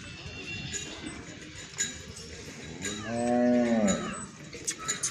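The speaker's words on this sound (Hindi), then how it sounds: "दोस्तों एक गाय ये भी है" A cow at a roadside cattle market on a national highway gives one loud, drawn-out moo near the microphone, set against steady crowd murmur and outdoor market bustle.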